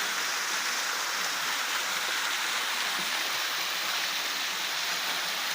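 A waterfall and its stream keep up a steady, even hiss of rushing water the whole time. No one speaks over it.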